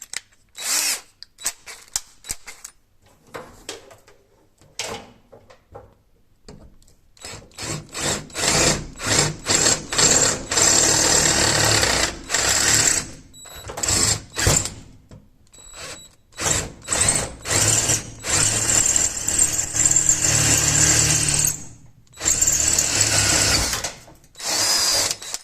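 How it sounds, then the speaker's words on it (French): Power drill with a worn, struggling bit boring a hole for a manual roller shutter crank handle, whirring in repeated short and longer bursts separated by pauses, close and loud, with rubbing and grinding in the material. "J'ai un forêt qui a du mal à percer."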